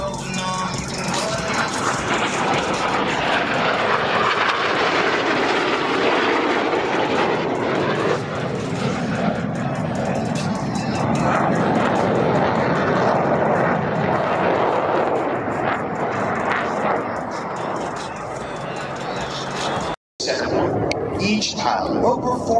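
US Navy Blue Angels jets roar loudly overhead during an opposing four-point hesitation roll at a New York airshow, a sustained broadband jet rumble with a brief dropout near the end and an announcer speaking over it.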